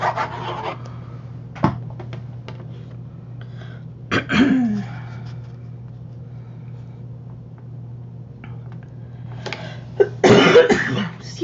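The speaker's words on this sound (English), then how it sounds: "I swallowed something wrong at dinner, and I've been coughing ever since." Coughing after swallowing something the wrong way, a few sharp isolated coughs spread across a quiet room, with faint rustling between them.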